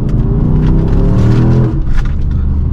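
Dodge Charger R/T with a new exhaust gives a loud, close, deep rumbling note that swells as it revs, then eases off briefly before picking up again.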